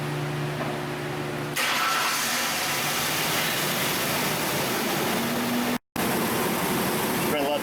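A vehicle engine starts and then idles with a steady rumble, joined by a constant mechanical whir; a brief dropout near the end.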